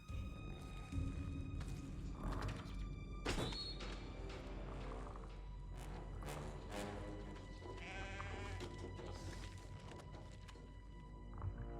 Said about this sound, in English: This poor sheep.